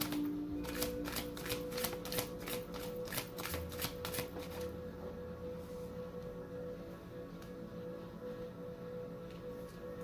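Cards are riffled and shuffled for a card reading, a quick run of crisp flutters over the first half followed by quieter handling and soft drawing, close and fairly faint with no talking.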